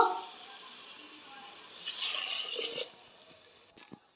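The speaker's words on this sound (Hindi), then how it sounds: "इसको ही मेजर करके हम लोगों को पानी ऐड करना है" Water is poured onto measured dal and rice for khichdi in a home kitchen, a short hissing splash that builds for about a second before stopping, followed by a couple of faint knocks.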